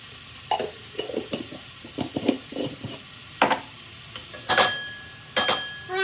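Onions sautéing with salt in a pan, stirred with a spoon that gives repeated short scraping strokes over a soft, steady sizzle, close up with no voices.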